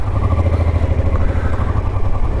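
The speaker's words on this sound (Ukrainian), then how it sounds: "а там що, мотоцикли приїхали" Several motorcycles idle and rumble steadily in a parking lot, a continuous low engine drone with light mechanical clatter and no talking.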